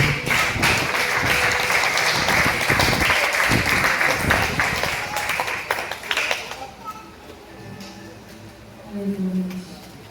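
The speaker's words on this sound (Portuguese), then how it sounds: "Uma salva de palmas ao Senhor." Loud applause from a church youth service congregation fills the first several seconds, dense and steady, then fades into a quieter room with faint tones and murmuring.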